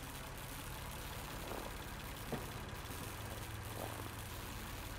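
Diesel generators run inside a shed in a video game, giving a faint, steady low idling drone that holds even throughout with no breaks.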